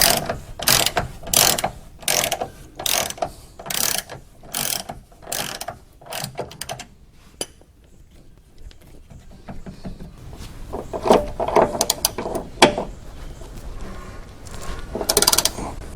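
A hand ratchet loosens the body mount screws on a 2004 Jeep Wrangler TJ, clicking in quick repeated bursts up close, then pausing and clicking again in more scattered bursts.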